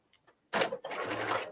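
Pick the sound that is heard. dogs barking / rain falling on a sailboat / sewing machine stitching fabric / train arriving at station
sewing machine stitching fabric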